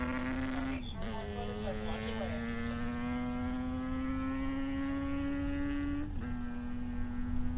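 A 500cc modified fuel-burning motorcycle runs across the Bonneville salt flats, its steady droning engine tone rising slowly in pitch, distant and faint under a constant background hum.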